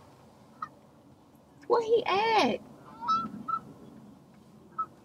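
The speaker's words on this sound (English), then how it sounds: "Y'all, this bird will not let me live." Ducks honk loudly outdoors, close by, in one harsh burst of calls followed by shorter squawks, with a voice briefly speaking.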